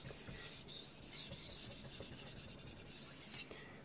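A knife blade strokes across a fine finishing whetstone in quick, quiet rasping passes, a soft rhythmic scrape repeating close by with brief pauses and no voices.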